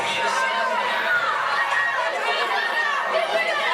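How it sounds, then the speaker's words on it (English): Crowd at a live wrestling event, a dense babble of many voices chattering at once, steady and close throughout, with no single voice standing out. "We have a great crowd here this evening"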